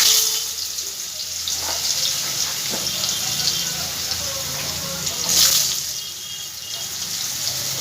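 Potatoes frying in hot oil for a Bengali masala eggplant dish give a steady, close hiss and crackle with a brighter flare of sizzling partway through, and no voices.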